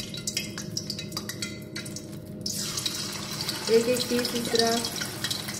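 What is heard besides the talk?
fish pieces deep frying in hot oil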